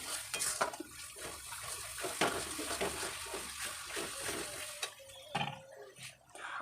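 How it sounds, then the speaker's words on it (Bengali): Spices for chicken curry, including coriander powder and garam masala, being stirred and fried in a pot. A spoon clinks and scrapes against the metal over a faint sizzle in short, irregular strokes. "সমস্ত কিছু ভালো করে একটু কষিয়ে নিচ্ছি"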